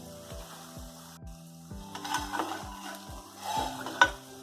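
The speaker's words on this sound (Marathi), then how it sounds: "तेल गरम झालंय. जितके कढईमध्ये येईल तितके घालायचे." Lentil vadas fry in hot oil in a kadhai over a medium flame. A soft, continuous sizzle runs under a regular series of dull knocks from stirring, with one sharp clink near the end.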